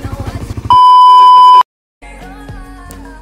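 A Raider 150 Fi motorcycle alarm gives a loud, steady electronic tone lasting about a second, cut off sharply, with other rhythmic electronic sounds before and after.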